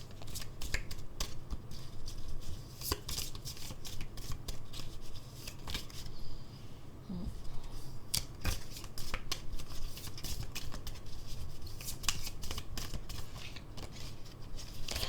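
Angel oracle cards are shuffled by hand in rapid, crisp riffling bursts that repeat steadily up close, with no speech.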